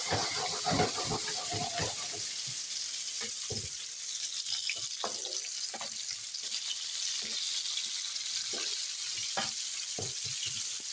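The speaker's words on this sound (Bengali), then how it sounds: "এখন এগুলো আমরা একটু দিয়ে দেবো হ্যাঁ যাতে মোটামুটিভাবে সব জায়গাতে একটু ভাজা হয়" Meatballs for polpette al sugo frying in a pan, a steady sizzle under repeated clattering utensil knocks and scrapes as they are turned, close by.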